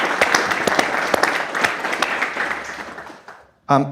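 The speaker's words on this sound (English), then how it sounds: "So I think we should give him a round of applause, because this is just an amazing accomplishment." A lecture audience claps steadily for about three seconds and then the applause dies away. A voice starts speaking right after it.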